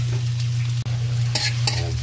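Hot cooking oil sizzling steadily in a pan before ginger goes in, a loud continuous crackling hiss with a low hum underneath and a couple of brief scraping bursts near the end.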